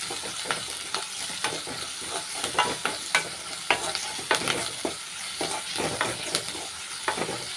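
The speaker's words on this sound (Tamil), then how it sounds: "வெங்காயம் நல்லா வதங்கிக்கிறட்டும்." Onions frying in a pan and being stirred, with salt added for the sautéing, for a bitter-gourd style weight-loss dish; a steady close sizzle with repeated scraping strokes of the spoon throughout, no talking.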